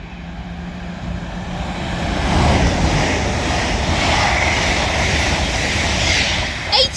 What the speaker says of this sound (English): Now passing through is going to be an Avanti West Coast Class 807 Evero